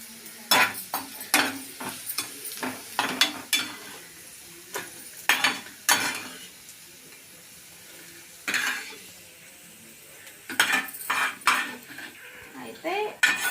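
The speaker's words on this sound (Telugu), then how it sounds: "పచ్చిమిర్చి వేయించుకున్నట్టు బాగా ఇలా వేయించుకోవాలి మనం" Green chillies fry in a pan while a metal spoon stirs and scrapes them in uneven clattering bursts over a soft sizzle, with quiet pauses between the strokes.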